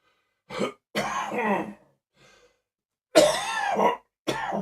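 Several harsh, wet coughs in separate bursts, close by, with a faint throat sound in the pause between them.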